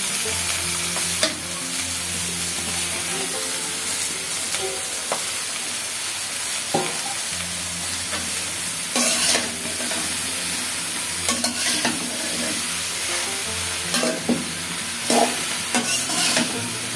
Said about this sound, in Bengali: এবার লাউটা দিয়ে দেব মশলা কষানো হয়ে গেছে